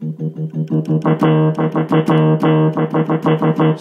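Digital piano notes struck hard and fast in a steady repeated pattern, loud and percussive, with thick chords that ring brightly and slightly harshly.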